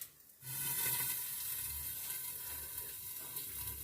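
Pancakes sizzle quietly in a frying pan. After a brief near-silent moment, a soft, even hiss starts and holds steady with faint crackles to the end.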